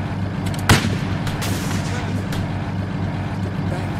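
Gunfire and a sharp heavy blast ring out over a continuous rumble of battle around a tank in the World War II shooter game Easy Red, with several further distant shots following.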